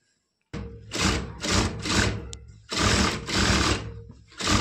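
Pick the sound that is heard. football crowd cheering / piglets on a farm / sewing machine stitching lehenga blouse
sewing machine stitching lehenga blouse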